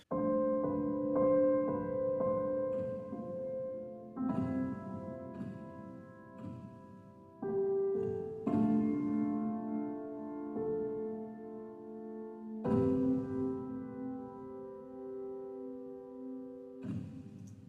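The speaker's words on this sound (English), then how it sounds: "It's a very mechanical sounding piano by itself" A mechanical-sounding synth piano made with Reason's Radical Piano plays slow, ringing chords, each note sustaining and decaying in a spacious, ambient wash. No one speaks.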